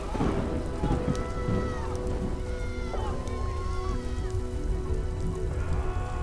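Steady rain pours down in a storm, with low thunder rumbling underneath. It sounds like a dramatized scene, with some faint tones and voices mixed into the constant hiss.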